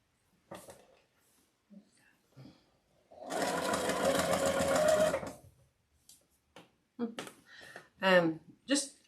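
A sewing machine stitches a seam on a red and black striped witch Halloween wreath attachment, a steady whirring run of about two seconds, close and clear, between short bursts of talk and handling noises.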